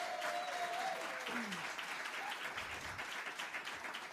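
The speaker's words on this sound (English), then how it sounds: "give everybody who's helped us out a big round of applause" Applause from an audience on a Farm and Fun Time radio livestream, a steady wash of many hands clapping that fills the whole stretch at an even level, with no talk over it.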